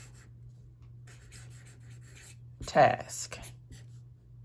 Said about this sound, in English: So I'm going to write out monthly